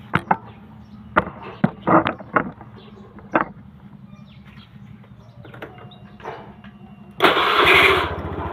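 A Honda Scoopy scooter with a fresh battery: a series of sharp clicks and short cranking taps comes first, then the engine catches near the end and settles into a steady, moderately loud idle.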